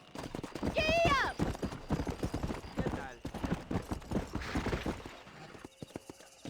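A horse gallops in Red Dead Redemption, its rapid clip-clop hoofbeats rolling under game dialogue, with a brief whinny near the start.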